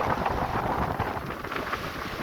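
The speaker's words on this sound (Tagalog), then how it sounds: "Taas pa ng hangin." Strong wind roars steadily into the microphone on a white-sand beach, a constant broadband rush with gusty buffeting and no voices.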